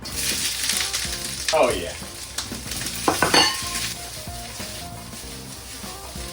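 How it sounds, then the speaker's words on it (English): Fajita peppers hit a hot oiled pan and sizzle loudly, crackling and hissing with a few stirring scrapes, and a voice briefly speaks over the frying. "Now it's time to cook the fajita peppers."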